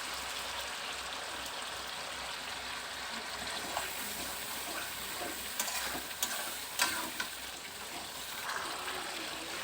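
Masala with peas sautéing in a pan for shahi matar paneer, a soft, continuous sizzle with light intermittent stirring scrapes and clicks, fairly faint and close, with no voices.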